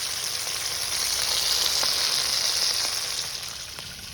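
Fish frying in oil in a wok at a village cooking spot gives a loud, continuous crackling sizzle that stays up close and steady, then eases slightly toward the end.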